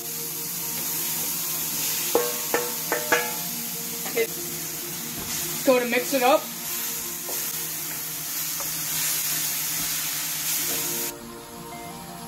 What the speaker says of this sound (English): It has stopped sizzling a little bit.